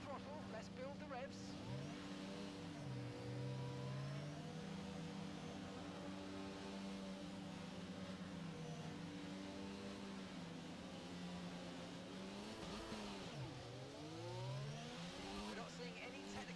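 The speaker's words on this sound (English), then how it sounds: "feed in the throttle, let's build the revs" An F1 car engine in the F1 2022 video game revs up and holds high before the race start, sweeping up and down in pitch through shifting revs, with a voice talking over it.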